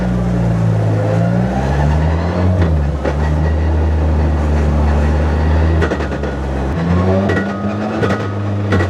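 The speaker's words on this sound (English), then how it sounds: "we're testing the gearbox" Mazda Miata ND endurance race car engine running steadily during a gearbox test, a loud close drone with rising and falling revs and a drop in pitch near the end, no talking.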